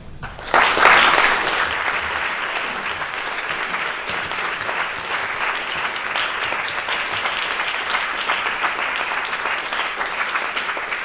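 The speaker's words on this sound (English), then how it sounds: "Please express your excitement and gratitude again with a characteristic sound Sheffield round of applause" A festival crowd at Sheffield Doc/Fest breaks into loud, sustained applause as guests return to the stage, swelling sharply at the start and then holding as a dense, even roar of clapping.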